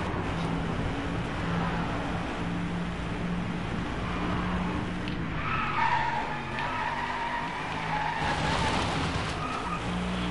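Tyres screeching and skidding in the Driveclub racing game, a sustained loud squeal over a steady engine roar that swells again near the end.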